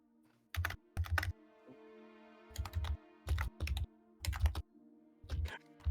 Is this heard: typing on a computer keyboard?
yes